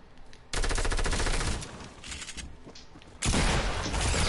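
Rapid automatic gunfire bursts out in Fortnite, a dense rattling stream of shots that pauses with scattered lighter fire before another loud volley erupts near the end.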